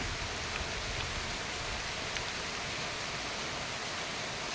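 Dense, heavy rain pours continuously over a nutmeg plantation in Thrissur, Kerala, as an even, hissing roar with no voices.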